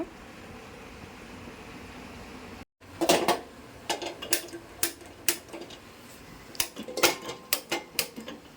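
A cooking pot is set down on a stove: after a short silence comes a close run of sharp metallic clinks and taps at uneven intervals, with a faint hum in the background.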